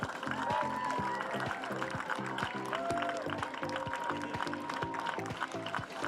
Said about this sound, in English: So a big round of applause for the